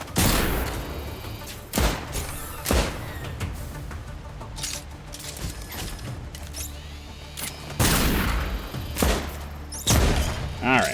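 Gunfire from a turret fight in the video game Lost Skies comes as about five sharp, loud bursts spaced unevenly over a murky, rumbling game ambience.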